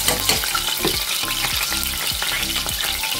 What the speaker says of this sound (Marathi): मिरची जरा अशी तेलामध्ये परतून घेते